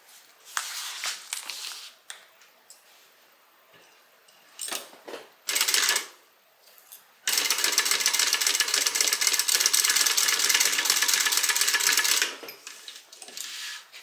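A sewing machine stitches a bag lining to its gusset while making a Compton Carryall Bag. A few handling clicks and rustles come first, then a steady, close motor whir runs for about five seconds before stopping.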